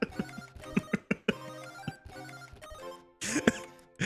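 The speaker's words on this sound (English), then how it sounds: "Patreon notifications should come in." A Patreon notification alert on a live stream sounds as a series of ringing, bell-like chime tones in short repeated bursts, clear and fairly loud, with no talking over it.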